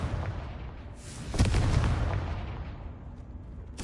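A Confringo spell explodes in Hogwarts Legacy with a loud booming blast and a rumbling tail that fades over a few seconds, with a softer crack at the start and another at the end.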